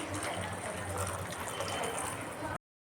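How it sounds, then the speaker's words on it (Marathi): Hot water pours into a pan of spicy eggplant curry as a quiet, steady gush lasting about two and a half seconds before stopping abruptly. "गरम पाणी टाकून घ्यायचं आहे।"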